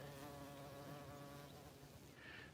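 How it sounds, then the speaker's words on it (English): Bumblebees and carpenter bees buzz around flowering plants outdoors, a steady droning hum that carries continuously throughout, fairly close and moderately loud, with no voices. "I hear the bees. There's bumblebees, carpenter bees."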